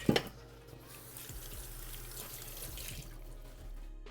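Juice poured over a salad while a meal is being plated, a soft continuous liquid trickle close by, starting with a brief clatter and holding steady for a few seconds.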